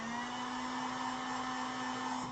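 A heat gun blows steadily while warming the adhesive on an iPhone 6s Plus screen during an LCD repair, a constant close whirring rush with a fixed motor whine and no pauses.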